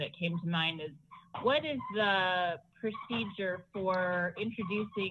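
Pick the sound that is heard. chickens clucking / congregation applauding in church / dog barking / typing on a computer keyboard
dog barking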